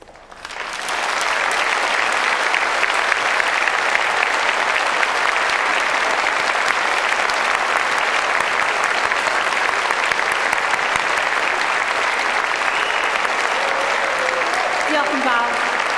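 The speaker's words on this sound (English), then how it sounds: "giving them a warm and enthusiastic round of applause" Loud, sustained applause from a large graduation ceremony audience at Cardiff University, as graduates clap for their families and friends, a dense steady roar that swells in within the first second and holds at full strength throughout.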